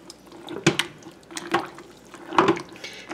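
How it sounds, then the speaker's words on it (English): A spoon stirs pork and beans in a pot, giving three short, separate clinks and scrapes against the pot, close by with quiet pauses between. "And I'll just give this a stir down."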